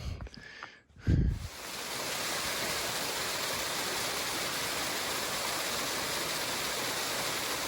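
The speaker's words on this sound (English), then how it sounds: "This is some water spilling into Eliza Brook." Steady rushing water spills and splashes into Eliza Brook on the Appalachian Trail, a close, even torrent after a brief thump and shuffle at the start.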